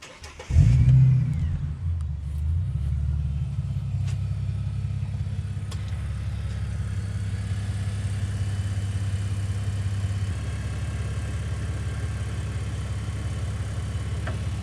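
A car engine cranks and catches, then settles into a steady, rumbling idle for over ten seconds, close and fairly loud, with light rain outside and no talking.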